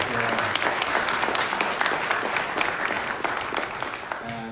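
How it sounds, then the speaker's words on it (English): Steady, dense clapping from a sizeable town hall audience, loud and continuous throughout with no voices standing out. "Let's give them a big round of applause."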